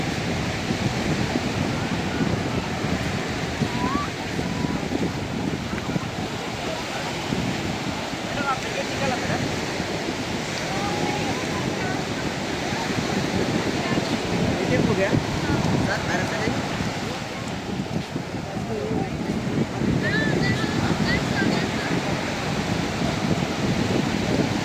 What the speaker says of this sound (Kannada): ಸೊ ಕೋಲ್ವಾ ಬೀಚಲ್ಲಿ ಹಂಗೆ ನಡ್ಕೊಂಡು ಹೋಗ್ತಾ ಇದ್ದೀವಿ ನೋಡಿ